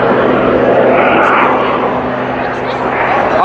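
Propeller aircraft passing overhead at the Wales Airshow in Swansea, a steady broad engine roar sustained throughout with a low drone underneath and a slight swell near the middle.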